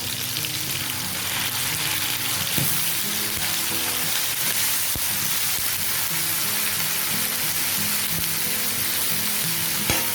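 Chicken liver fries with ginger garlic paste in a pan, giving a steady, dense sizzle that holds evenly throughout, close and uninterrupted with no talking.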